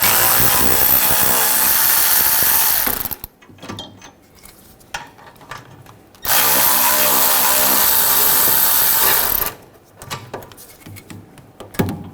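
Caliper bracket bolts come out of a 2011-2018 Volkswagen Jetta's rear brake with an M14 triple square socket on a power tool, in two loud sustained bursts of whirring, each about three seconds, separated by quieter clinks and handling noises.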